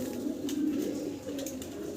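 Pigeons cooing on a pigeon farm, a steady low burbling coo close by with no talking, continuous through the moment.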